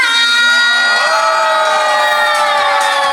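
A large crowd at Museum Angkut transport museum shouting and cheering loudly together before a parade show, a sustained roar of many voices with rising whoops, close and continuous throughout.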